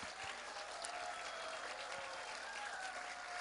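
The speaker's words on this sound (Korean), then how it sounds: "여러분 큰 박수로 다시 한번 격려해 주시기 바랍니다." Steady audience applause at a school closing ceremony honoring a Korean traditional music group, a continuous mass of clapping heard from some distance at moderate level, with no speech over it.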